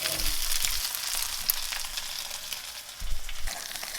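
A burger patty sizzles loudly in a frying pan, a constant close crackling hiss with brief scraping thumps as it is flipped over.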